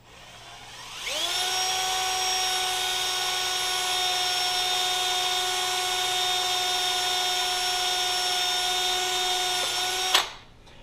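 A power drill bores through PVC pipe. It spins up into a steady, high, whining buzz that holds for about nine seconds, then stops abruptly with a brief clunk.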